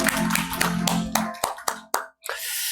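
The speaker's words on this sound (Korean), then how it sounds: "우리 하나님과 서로를 향하여 박수합시다" Church congregation clapping during a Sunday worship service, a dense patter that thins into a few scattered, distinct claps, then a short gap before a brief final burst.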